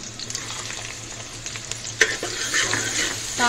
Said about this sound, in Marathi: आपण चांगला फ्राय करून घेऊया। कांदा आपला चांगला फ्राय झालेला आहे।